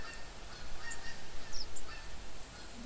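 Geese honking as they fly over outdoors, a steady wash of distant calls under wind and field noise, moderately loud and continuous.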